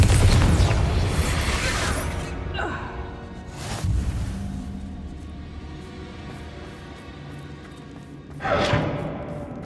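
Explosive Confringo fire spell bursts during Hogwarts Legacy combat: a loud blast rolls off at the start, a second thump follows midway, and another explosion lands near the end.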